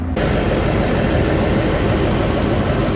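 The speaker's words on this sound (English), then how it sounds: "I'm revving it up." A school bus engine roars loudly and continuously up close as it is revved, a thick broadband drone that jumps in abruptly and holds steady.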